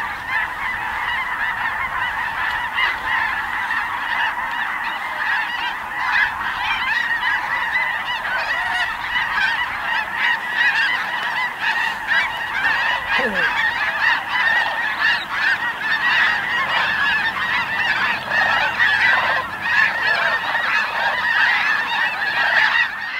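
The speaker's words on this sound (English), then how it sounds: "And here came the geese, thousands of them." Thousands of geese fly in at Bosque del Apache National Wildlife Refuge, honking continuously, a dense chorus of overlapping calls that swells and persists without letup.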